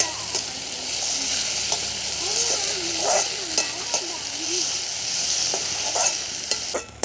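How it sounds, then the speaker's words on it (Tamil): Onions and dried red chilies deep frying in a large pan of hot oil for a village home meal, a steady dense sizzle with occasional stirring clinks and a faint voice in the background. "வெங்காயம் செத்தலெல்லாம் நல்லா பொரிஞ்சிட்டது"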